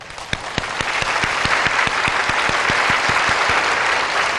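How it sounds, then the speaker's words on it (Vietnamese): A game show studio audience applauds in a big, continuous round of clapping, loud and steady from start to finish, with a few sharp rhythmic beats punctuating the wash of hands. "Chúng ta cùng dành một tràng vỗ tay thật lớn để đến với phần 3 của chương trình"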